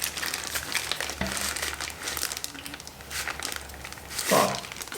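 Plastic packaging around a TONOR TC20 microphone crinkling during unboxing, soft, close rustles and crackles in uneven bursts, with one louder crunch near the end.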